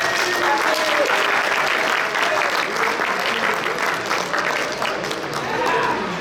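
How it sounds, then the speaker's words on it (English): A crowd at a fall sports banquet applauds as players come up, sustained, even clapping that holds steady throughout with voices murmuring beneath it. "you can give them a round of applause"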